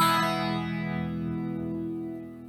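A single chord on an Eastwood Classic 12 twelve-string electric guitar, played through its neck pickup into a warm, compressed amp modeler, rings out and sustains steadily, with no talking.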